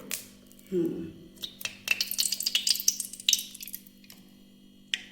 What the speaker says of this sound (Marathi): कढई ठेवलेली आहे आणि त्यात आता मी आहे ना टाकणार आहे तूप